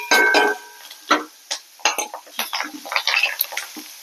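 Curry leaves, dry red chilies, chana dal and urad dal frying in a pan, with scattered stirring scrapes and clinks of a utensil against metal over a low sizzle, close by.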